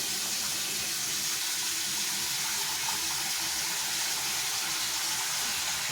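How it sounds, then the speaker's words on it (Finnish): Cold water runs from a tap into a glass in a steady, continuous splashing stream, close and fairly loud throughout. "Sitten puhutaan riskiaineet pois ja sitten laitetaan kylmää vettä."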